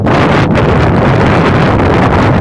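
Loud, roaring wind buffeting the microphone continuously in a park in Yokohama, a heavy rushing blast with slight gusty surges throughout.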